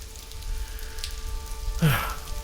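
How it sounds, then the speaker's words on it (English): Steady rain falls outdoors, a continuous soft patter and hiss of drops on surfaces, with a brief louder splash or rustle near the end. "What are you doing out here in the rain anyway?"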